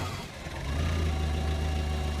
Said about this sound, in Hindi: इंजन अपने आप स्टार्ट हो गया।